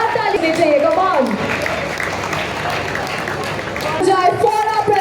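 Applause from the crowd at a property expo, a broad rolling clatter of clapping that holds steady, with a voice speaking over the start and end.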